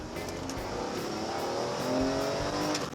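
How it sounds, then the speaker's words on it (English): A BMW M3 E46's straight-six engine pulls hard under steady acceleration, its smooth, loud note rising continuously for about three seconds with no talking over it. "It's a silky smooth 6 that sounds incredible."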